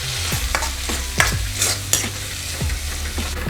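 Ground masala paste with curry leaves sautés in a pan, hissing steadily while a spoon scrapes and stirs it in repeated close strokes.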